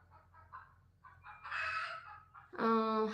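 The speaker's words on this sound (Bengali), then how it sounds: "আমার মুরগিটা আমাকে দেখতে পাচ্ছে না বলে চিল্লাচ্ছে" A chicken calls out repeatedly, with short clucks building into a louder, drawn-out squawk near the end, close by and fairly clear over a quiet background.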